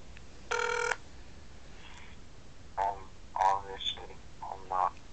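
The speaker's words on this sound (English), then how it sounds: "we're gonna call him. He probably won't answer," An outgoing phone call rings once, a brief buzzing ring tone early on, followed by faint scattered sounds in a quiet room.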